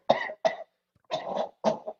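A person coughs in four harsh bursts, two quick ones, a pause, then a longer rasping cough and a final one, loud and close with silence between.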